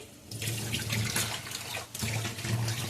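Black-eyed beans are washed under running water in a kitchen sink, a steady close splashing flow with swishing bursts as the beans are stirred, no voices.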